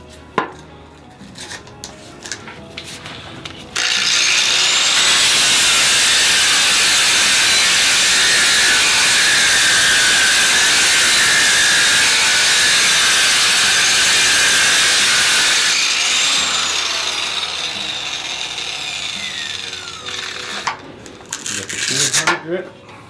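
A variable speed angle grinder dry polishes tile with a 100 grit pad, giving a loud, steady whine and scraping that runs for about twelve seconds. It then winds down, with quieter handling sounds before and after.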